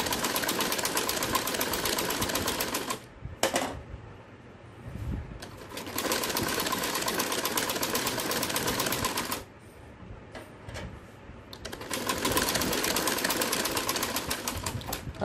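Sewing machine stitching a salwar in three long, loud runs of rapid needle chatter, separated by brief pauses with soft handling clicks and fabric movement.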